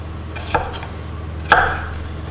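A kitchen knife dices garlic coarsely on a cutting board for a beetroot salad, two distinct close chopping knocks about a second apart in a quiet room.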